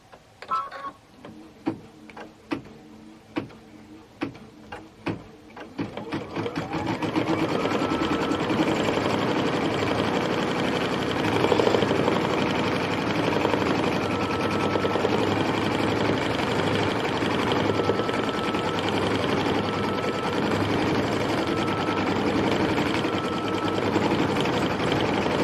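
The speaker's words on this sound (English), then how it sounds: "we'll stitch our tree placement line, put our tree placement fabric down, and then we're going to trim close to that" An embroidery sewing machine stitches a tree placement line on fabric. A few sharp clicks come first, then a loud, continuous mechanical whir with a rapid stitching rhythm.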